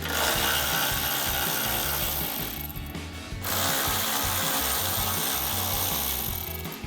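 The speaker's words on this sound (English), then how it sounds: "So we'll take our 10mm socket to get these out." A 10mm socket on a ratchet is working headlight mounting bolts out of a 2010-2024 Toyota 4Runner: a close, steady rapid ratcheting clatter with a brief pause partway, then continued clicking, with no talk.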